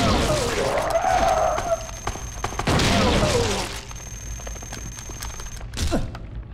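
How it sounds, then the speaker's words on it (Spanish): Shotgun blasts in the survival horror game Silent Hill 2, two loud broadband bursts a few seconds apart over a dark ambient game soundscape, with a fainter crack near the end. "me ha dado por disparar sin querer"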